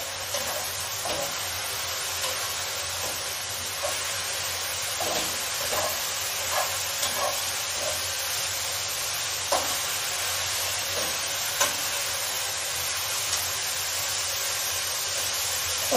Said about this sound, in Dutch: Niet vergeten die roeren.